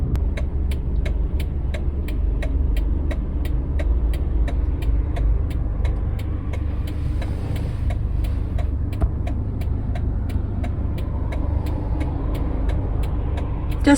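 Steady low road rumble from a car driving along a road in traffic, a continuous engine and tyre drone that holds level throughout with faint ticking above it and no one talking.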